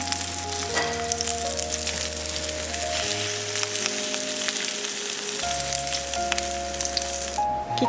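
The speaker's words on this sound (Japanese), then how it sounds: "フライパンに油を入れて串を焼きます。" Skewers sizzling in hot oil in a frying pan, a continuous crackling fry with a steady hiss and no voices, while background music plays throughout.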